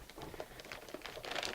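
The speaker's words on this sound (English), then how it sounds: "this is an anti-static plastic bag" An anti-static plastic bag crinkles and rustles continuously while a computer part is taken out of it, close and fairly quiet, with no talking.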